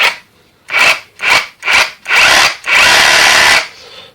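A Bowose 21V 900W cordless reciprocating saw runs in short bursts close by. Three brief revs are followed by longer, louder runs of about a second each, with its buzzing motor whine stopping between triggers.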